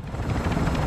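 A helicopter in the video game Call of Duty: Modern Warfare II drones with a steady, loud rotor and engine roar that fills the whole moment without any talking.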